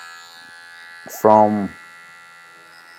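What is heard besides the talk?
hair trimmer cutting a low fade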